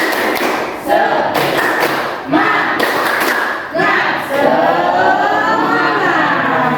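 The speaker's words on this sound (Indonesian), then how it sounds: "Terlebih dahulu, tepuk semangat." A classroom of students performs the rhythmic "tepuk semangat" clapping chant, loud and close, with bursts of patterned claps mixed with shouted chanting voices.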